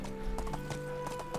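Horse hooves in the medieval life-sim Medieval Dynasty clop in a quick, uneven series of hollow knocks, close and distinct over a steady low game ambience.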